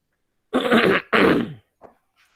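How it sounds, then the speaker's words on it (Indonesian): Two harsh throat-clearing coughs in quick succession, close and loud, followed by a small faint cough. "saya agak batuk"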